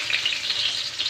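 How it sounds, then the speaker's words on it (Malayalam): Mustard seeds fry in hot oil with onion added for tempering, giving a continuous bright sizzle with light crackle, close and moderately quiet, with no voices. "കടുക് വറുക്കാം"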